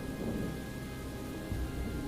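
A thunderstorm at night on a dark road through pine and birch forest, with steady rain and a low rolling thunder rumble, continuous and fairly quiet, no voices.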